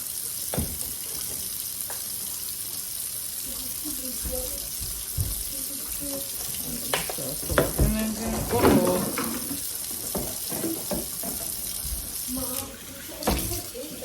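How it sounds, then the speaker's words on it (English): Cold tap water running onto ground beef in a colander set in a bowl in a home kitchen, a continuous splashing hiss with occasional spattering bursts and clinks, with a voice talking faintly beneath it. "So I'm gonna get some cold water on the ground beef."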